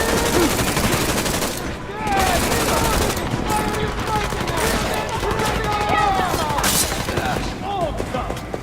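Heavy gunfire from the video game Deus Ex: Mankind Divided rattles on continuously and loudly, with dense overlapping bursts that barely let up, and voices shouting through the barrage.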